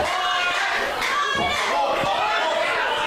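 Crowd at a women's wrestling show cheers loudly in support of wrestler Violet, a dense continuous roar of shouts with a couple of sharp impacts, while a commentator talks over it.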